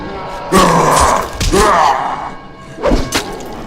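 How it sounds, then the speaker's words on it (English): A sticky bomb detonates on a zombie in the Dead Island video game, giving heavy thudding blasts with a gasping, groaning character, loud and close, recurring three times over a few seconds. "So when you throw it towards an enemy, it is going to explode when it gets stuck in the zombie."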